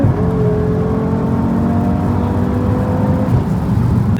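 An Audi RS3 with a Stage 2 tune pulls hard after a downshift, its engine note droning steadily and climbing slowly in pitch beneath a loud rush of road and wind noise from inside the car.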